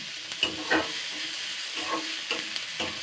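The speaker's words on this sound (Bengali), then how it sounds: "সুন্দর হালকা করে ভেজে নিয়েছি" Greens frying lightly in a little oil in a pan while being stirred, a steady soft sizzle with a few louder clatters of the spoon, close and continuous with no talking.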